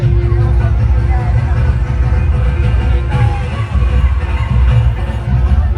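A large, dense crowd packs a garba dance event at Sankalp Pratishthan in Thane, producing loud, continuous babble and hubbub with music throbbing underneath.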